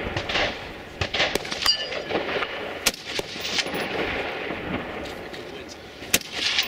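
Rifle shots ring out at a practical rifle match stage, several sharp reports spaced irregularly over a steady outdoor background, with one louder crack near the end.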